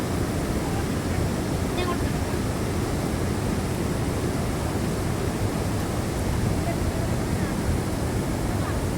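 River water rushes in a constant, broad roar that stays loud and even from start to finish, with no breaks.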